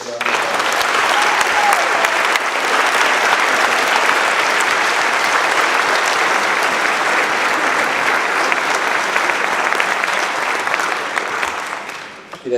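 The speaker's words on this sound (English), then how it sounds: "Please give these cadets a round of applause." Sustained applause from a crowd at an 8th grade cadet ceremony, steady dense clapping that holds evenly for several seconds before tapering off.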